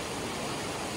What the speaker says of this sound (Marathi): नदीला पूर आलाय भरपूर.